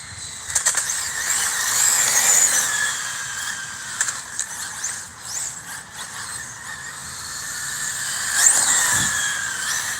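An Arrma Limitless 8s RC car runs outdoors on gripper tires, a high electric whine and tire squeal rising and falling as it speeds past, moderately loud with no talk.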